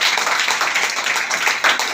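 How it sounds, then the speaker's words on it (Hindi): An audience applauds to honour women's empowerment during a talk in Virar, a dense, steady wash of many hands clapping that lasts throughout without pause. "नारी शक्ति के लिए जोरदार तालियां होनी चाहिए।"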